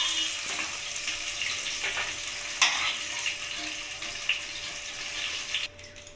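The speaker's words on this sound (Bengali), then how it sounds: "মাছগুলো ভাজা হয়ে গেছে" Bhetki fish bones fry in oil in a wok, giving a bright, steady crackling sizzle with a few clattering stirs, before it suddenly drops away near the end.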